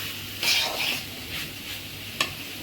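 Sliced papaya stir-fried in a pan, with gentle sizzling and a few distinct scraping strokes of a spatula, one sharp metallic tap near the end, heard close up with no talking.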